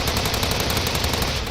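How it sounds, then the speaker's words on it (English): Gunfire in the video game Steins;Gate 0, a dense, continuous burst of rapid automatic shots sustained at steady loudness, with no talking over it. "The laptop and hard drive were hit with more gunfire than possibly could have been necessary."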